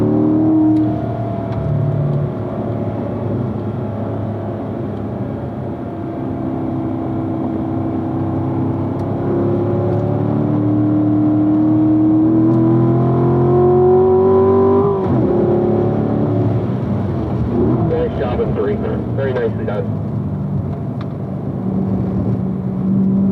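A car on a race track pulls hard out of a corner, its engine droning loud and steady as the pitch climbs through the rev range and eases off near the end.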